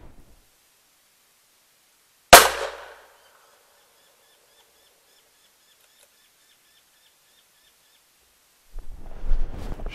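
A single loud, sharp .223 rifle shot fired at close range at a fox caught in a trap cracks out once and decays quickly into silence, followed near the end by low rustling and handling noise.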